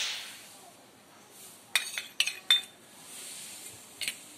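A metal spoon clinks sharply against a bowl a few times while spice paste of green chilli and poppy seed is mixed into raw prawns, short bright taps in an uneven rhythm over a quiet kitchen background.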